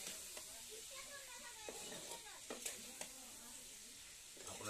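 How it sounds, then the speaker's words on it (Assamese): Meat frying in a pan with spices, a steady close sizzle broken by several sharp clinks and scrapes of stirring, ending in a louder burst of crackle. "আমি মাংসখিনি আগত ভাজি লওঁ"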